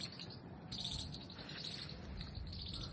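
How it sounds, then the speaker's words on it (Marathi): Steady insect and bird chirping fills the outdoor air at a hilltop temple, a continuous faint chorus with no voices. "पक्ष्यांचा किलबिलाट आहे।"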